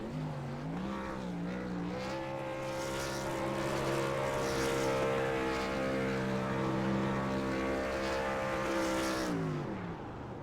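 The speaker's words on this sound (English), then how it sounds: "We're gonna see Burnett do his burnout here" A race truck in a VRS Truck Series sim racing game does a post-race burnout after a win, its engine revving in rising and falling sweeps, then holding a loud, steady high drone for several seconds before easing off.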